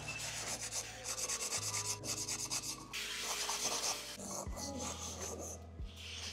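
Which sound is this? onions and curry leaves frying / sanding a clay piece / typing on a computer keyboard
sanding a clay piece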